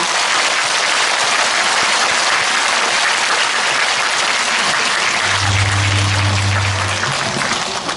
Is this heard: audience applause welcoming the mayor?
yes